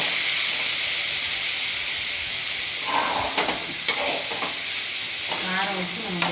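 Vathal masala being stirred in a hot pan, a steady sizzling hiss with scraping spoon strokes near the end and faint voice traces.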